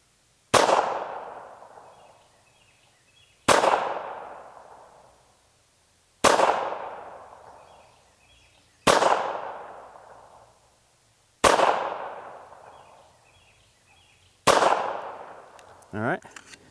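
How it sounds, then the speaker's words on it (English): Walther PPK pistol firing ball ammunition: six sharp, loud shots evenly spaced about three seconds apart, each with a short ringing decay, followed by a faint rattle at the end. "I'll start off with the ball round, and I'll shoot a 6-round group with it on top"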